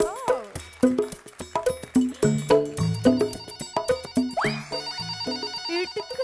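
A telephone plays a loud, close electronic ringtone: a bright melodic tune of quick repeated notes that keeps ringing for several seconds.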